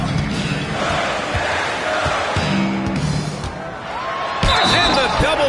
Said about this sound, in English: the double clutch jam wows the crowd